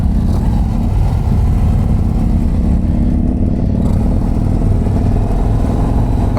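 A 2024 Harley-Davidson CVO ST motorcycle engine rumbles steadily while riding, a loud, continuous low-pitched drone with wind noise and no talking.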